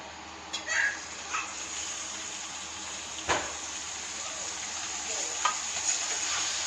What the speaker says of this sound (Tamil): தக்காளி போட்டு நல்லா கிண்டிக்கலாம்.